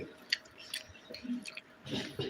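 Someone chews fried chicken with a dry masala coating, soft wet squishy bites and crunches close to the mic, irregular and fairly quiet, no talking.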